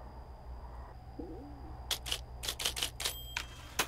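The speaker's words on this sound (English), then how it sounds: "Oh, I brought my typewriter with me." A typewriter in the game Firewatch: a quiet room hum gives way to a run of crisp, irregular key strikes, each a sharp metallic clack with a faint ringing tone.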